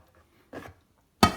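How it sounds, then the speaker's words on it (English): Pouring chili sauce over cold spaghetti noodles: a short wet splash, then a sharper clatter at the end, close and fairly quiet with no talking. "I'm just going to pour that right over there like that"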